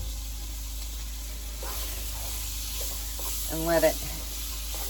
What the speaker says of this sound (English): I'm going to go ahead and add my onion because I like to brown it a little bit as well.